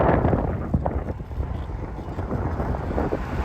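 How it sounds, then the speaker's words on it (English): Strong gusting wind buffeting the microphone outdoors at Chalmette Battlefield, a loud continuous low rumble with uneven surges. "Sorry it's a windy day, but I can't do nothing about"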